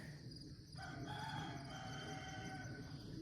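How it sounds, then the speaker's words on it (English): Roosters crow in the distance before sunrise in a backyard, their calls faint over a steady hum of early-morning ambience, with no one talking. "And the roosters, they are right back there."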